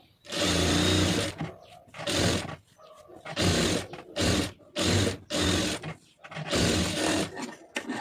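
A sewing machine stitches small seams on a blouse lining, running in loud bursts of rapid mechanical whirring separated by short pauses, close and alone with no talk.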